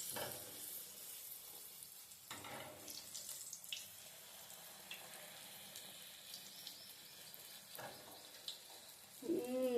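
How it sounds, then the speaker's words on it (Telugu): Puri deep-frying in hot oil, a faint continuous sizzle and bubbling hiss with a few louder swells and a sharper burst at the end, no speech. "ఇప్పుడు మనం వీటిని డీప్ ఫ్రై చేసుకుందాం"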